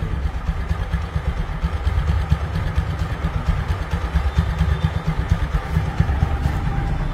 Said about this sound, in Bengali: রানিং অবস্থায় গাড়িটির সাউন্ড শুনুন